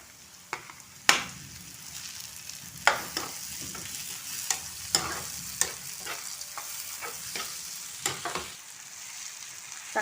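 Chopped tomato and onions sauté in a pan for an egg curry, with a soft continuous sizzle broken by sharp scraping clinks of a spoon stirring at irregular intervals, close and moderately quiet.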